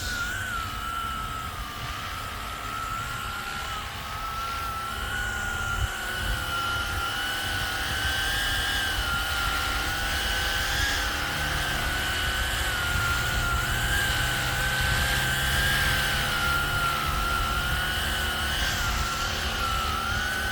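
A Flywing RC model helicopter styled after the Hill HX50 flies outdoors with a steady, high rotor and motor whine that holds at an even loudness throughout, with no talking.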